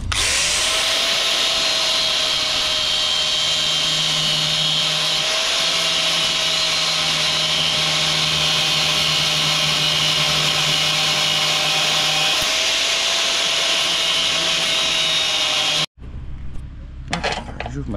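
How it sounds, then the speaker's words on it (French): Angle grinder working small metal fins on a Nodet pneumatic seed drill, a steady high whining grind held for about sixteen seconds, then cutting off abruptly. "on va d'abord meuler ces petites ailettes là"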